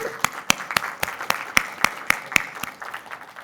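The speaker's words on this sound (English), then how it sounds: "Everybody give a round of applause." A single pair of hands claps steadily near the microphone at a tech conference keynote, about a dozen sharp, evenly spaced claps over light room applause in the background.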